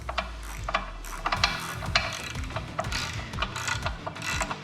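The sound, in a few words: Cummins 6.7 engine crankshaft being turned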